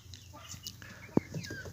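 A single short call from a young chicken cuts through a quiet farmyard background, with faint scattered bird sounds around it.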